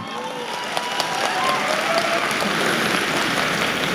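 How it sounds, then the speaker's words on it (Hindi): Thousands of people seated in a stadium at night applaud at a recognition ceremony, with a dense, continuous wash of clapping that stays steady and loud throughout. "आज 4-4 हजार लोग इतनी रात को ठंड में स्टेडियम में बैठ के तालियां बजा रहे हैं"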